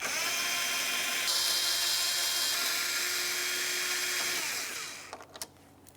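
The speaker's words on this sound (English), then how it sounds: "To remove these, you're going to use a T30 Torx bit" A power tool with a T30 Torx bit spins out bumper screws on a 2011-2018 Volkswagen Jetta, giving a steady, loud, high whine that shifts pitch partway through, then stops and leaves a few faint clicks.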